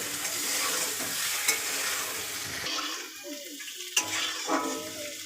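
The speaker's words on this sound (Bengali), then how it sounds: "ডিম ভাজা হয়ে গেছে। এবার তুলে নেব।" Eggs frying in a pan with a pinch of turmeric give a close, steady sizzle that thins out partway, with a few light utensil taps.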